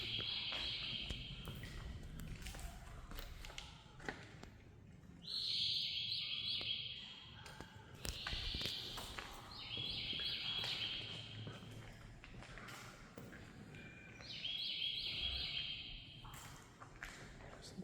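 High, repeated bird calls ring out in short bursts over steady background noise, fairly distant and faint, inside a WW2 ammunition depot building in Tennessee.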